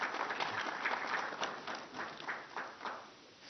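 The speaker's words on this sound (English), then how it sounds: "So a big round of applause for him as well." Applause from an audience at a Ministry of Finance economic survey briefing, a broad steady wash of clapping that stays fairly even for a few seconds before thinning slightly toward the end.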